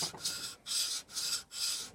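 Metal being draw filed with a hand file on a barrel, four rhythmic rasping strokes with brief pauses between them, close and moderately quiet, with no talking.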